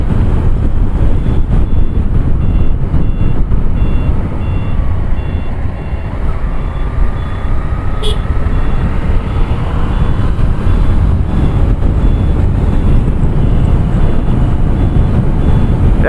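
A motorcycle overtakes on an open highway, its engine droning under heavy, constant wind buffeting, with passing traffic and faint beeping in the background.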